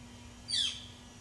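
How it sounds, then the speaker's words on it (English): A single bird call rings out in a backyard garden, a brief bright chirp standing clear above quiet outdoor background. "I don't know what that bird just was"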